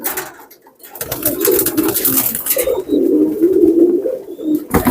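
Pakistani teddy pigeons coo repeatedly up close, with soft throaty rolling calls in loud overlapping bursts from a cage of young birds after a quieter opening moment.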